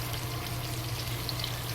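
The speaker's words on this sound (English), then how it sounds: "we turn to the other side to fry the other side" Tofu slices sizzle in hot oil in a pan, frying to a golden brown, crisp crust; a steady, dense crackle runs evenly throughout with no voices.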